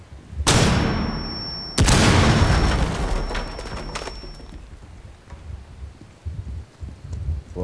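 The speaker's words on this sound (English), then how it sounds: "he threw a grenade" Two heavy grenade blasts go off close by in Rainbow Six Siege, a booming burst followed a second later by a bigger one that rings out and slowly decays, leaving scattered rumbling debris afterward.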